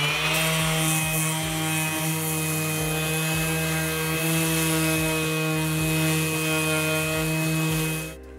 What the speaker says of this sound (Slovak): Zoberiem najskôr excentrickú brúsku.